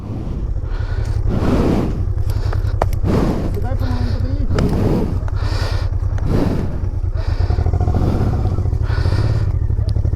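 A vehicle climbs rough off-road hill terrain in the Berezhany hills, its engine droning steadily and loudly throughout with bumps and clatter. People talk over the engine noise.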